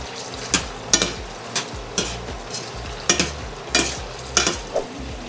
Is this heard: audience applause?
no